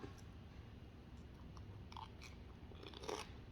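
Crunchy chewing and biting on a plate of som tam (spicy papaya salad) with fresh shrimp and rice noodles, close and fairly quiet, with a few sharper crunches near the end and no talk.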